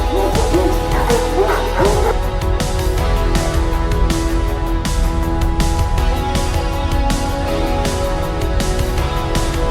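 Protective dogs barking at a bear, repeated loud close barks and yips in a fast irregular rhythm, with a few whimpers among them.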